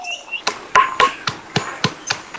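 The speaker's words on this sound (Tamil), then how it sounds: "நங்கு நங்கு நங்குன்னு இடிக்கணும் பூண்டை" Garlic is crushed with salt in a village kitchen while a fish gravy is being made, heard as a steady series of about nine close, hard pounding thuds at an even rhythm.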